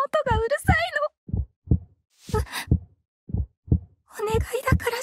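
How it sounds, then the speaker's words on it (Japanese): Heartbeat effect in a horror video game, a steady sequence of low, deep thumps in pairs, loud and close, with a voice speaking over the start and end. "心臓の音がうるさいの。"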